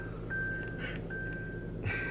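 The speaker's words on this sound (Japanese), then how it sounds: "もうこれピーってなってますけど、もう大変な場合はゴーって勝手にブレーキを踏んでくれます" A Toyota RAV4 driver-assist warning sounds as a pair of faint, sustained electronic beeps, each lasting about half a second, over low cabin hum.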